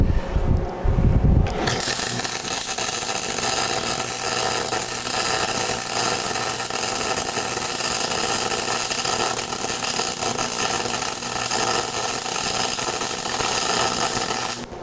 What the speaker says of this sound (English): Now, I'm going to do a little welding here.